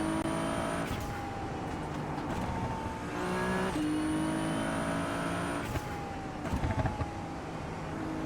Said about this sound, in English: The downshifts in this are really nice.